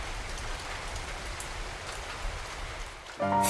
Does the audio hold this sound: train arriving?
no